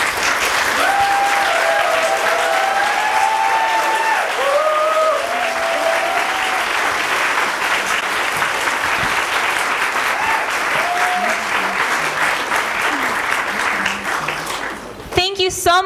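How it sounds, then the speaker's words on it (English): Sustained audience applause fills a school auditorium after an elementary school musical, steady and loud for about fifteen seconds with a few cheers and voices woven through, ending in a sharp burst of clapping. "Let's give them one more round of applause."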